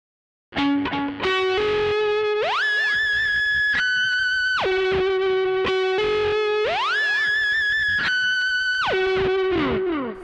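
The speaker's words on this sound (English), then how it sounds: "That was literally the only notes I played, but with the whammy, it went like this" Distorted electric guitar through a DigiTech Whammy pitch-shifting pedal repeats a short riff, its notes sweeping up an octave and dropping back in a steady, looping pattern.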